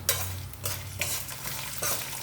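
Lentils sizzle and crackle in hot oil while being stirred for a tempering, with a few bursts of louder frying over a steady low hiss.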